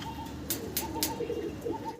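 Fancy pigeons, including Dragon birds, coo softly and repeatedly in a loft, with a few sharp higher calls and light clicks scattered over steady low background noise.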